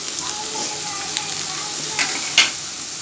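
Chopped banana flower, squeezed beforehand, goes into a pan of fried spices for a vegetarian mochar ghonto, giving a steady close sizzle with a few short louder crackles near the end.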